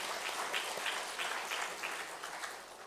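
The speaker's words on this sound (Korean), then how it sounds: "박수 한번 쳐주세요." A church congregation, children among them, clapping briefly during a sermon, a soft scattered patter of hands with a few sharper claps, fading slightly toward the end.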